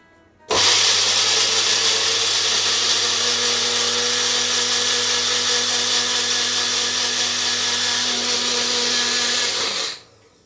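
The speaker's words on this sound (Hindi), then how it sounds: "उसने मुझे ये छोटी मिक्सी ला के दी" A small electric mixer grinder whirs loudly and steadily for about ten seconds, starting and stopping abruptly; no talking.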